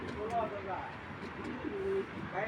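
A pair of racer pigeons gives soft, low cooing calls, a few short murmuring coos close by against a quiet background.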